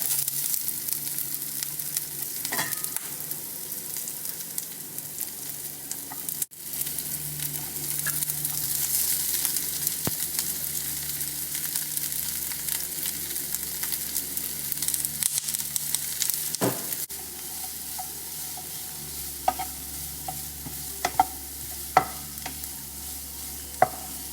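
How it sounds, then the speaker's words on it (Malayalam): Sliced onions sautéing in a pan for Kerala-style egg curry, a steady soft sizzle with occasional stirring scrapes and clicks, close and fairly quiet, no talk. "ഇപ്പോൾ സവാള ഒന്ന് വഴന്നു വന്നിട്ടുണ്ട്"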